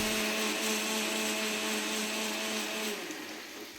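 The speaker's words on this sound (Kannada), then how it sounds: "ಟೊಮೊಟೊವನ್ನೆಲ್ಲ ಮಿಕ್ಸಿ ಜಾರ್ಗೆ ಹಾಕ್ಕೊಂಡಿದ್ದೆ ಅಲ್ವಾ, ಅದನ್ನು ಸಹ ರುಬ್ಬಿ ರೆಡಿ ಮಾಡ್ಕೊಳ್ತೀನಿ" Kitchen mixer grinder whirring steadily as it blends tomatoes into a smooth paste, a loud close motor drone with a strong tonal hum that fades slightly near the end.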